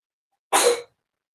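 A single sharp sneeze bursts out close to the mic, lasting under half a second between stretches of silence, during a knife and flashlight showcase.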